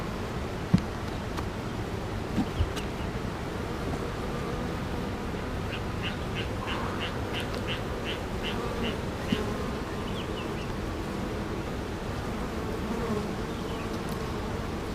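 Honeybees at an open hive buzz in a constant close hum, with a short run of rhythmic quacking or clucking calls in the middle and a few faint clicks from hive handling.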